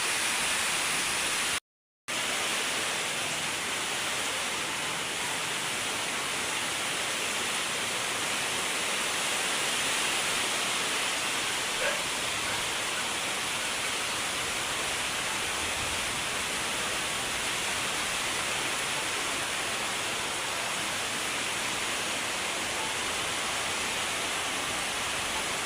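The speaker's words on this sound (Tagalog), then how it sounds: "Maambon-ambon na lang." Light drizzling rain falls outside in a steady, even hiss that continues unbroken for the whole stretch, with a brief dropout near the start and no talking.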